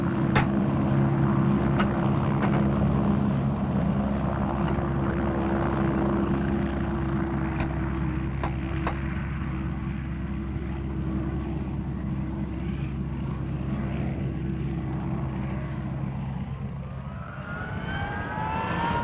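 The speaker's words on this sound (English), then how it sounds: "the aircraft are armed with missiles and prepared for flight" British Army Scout AH Mk 1 helicopter idling steadily close by, a loud continuous low rotor and turbine drone with a steady whine, no talking, the engine tone dropping away in the final seconds.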